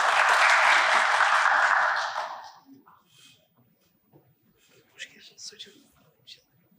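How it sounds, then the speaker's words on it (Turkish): An audience at the opening of a cybersecurity summit claps as a vice-rector is invited to the podium, a full burst for about two seconds that fades quickly into quiet, with a voice speaking afterward. "Alkışlarınızla."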